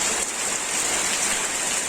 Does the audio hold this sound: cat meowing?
no